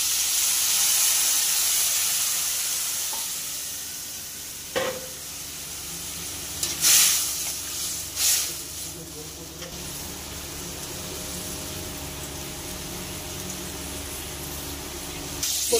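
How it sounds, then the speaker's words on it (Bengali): Water poured into a hot pan of fried crabs gives a steady loud sizzle and hiss, with a few sharp spits and bursts of steam, while a voice speaks over it. "এখন এর ভিতরে দিয়ে দেবো কাঁকড়াগুলো সিদ্ধ করার জন্য অল্প জল"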